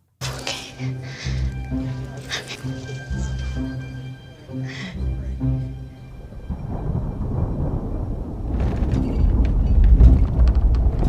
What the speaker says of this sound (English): Oh, there's thunder.